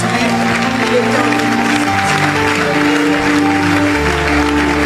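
A church congregation applauding steadily and loudly for several seconds, a continuous dense wash of clapping with a murmur of voices and a sustained musical tone underneath.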